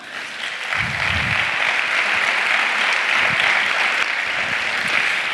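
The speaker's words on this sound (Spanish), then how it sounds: "Un aplauso para ellas, ¿no?" A crowd applauds steadily and loudly for several seconds, a dense, even wash of clapping with no talking over it.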